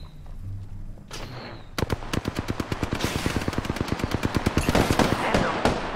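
Automatic weapon fire rattles in rapid bursts in the video game Apex Legends, dense and loud after a quieter opening with a brief sound effect, the shots coming in an even rhythm and building toward the end.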